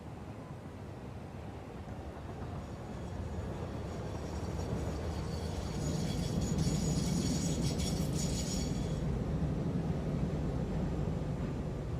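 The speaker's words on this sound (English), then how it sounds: "Well, there comes the train." A train arrives in the factory-building game Satisfactory, a broad rumbling roar that swells louder as it draws near and then holds steady, with a brief hissing wash on top.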